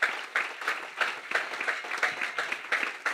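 A church congregation breaks into steady, dense applause, a continuous wash of many hands clapping with rhythmic surges, loud and close throughout.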